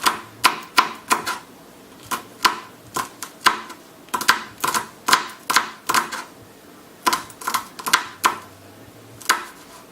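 Knife chopping peppers into thin slices for pico de gallo, with quick, close, crisp taps on a cutting board coming in uneven runs and brief pauses.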